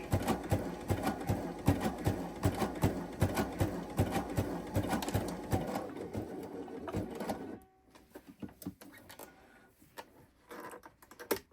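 A Baby Lock Sashiko sewing machine stitching with variegated thread: a fast, steady mechanical rattle of needle strokes close by. Partway through it stops and gives way to quieter scattered clicks and handling noises.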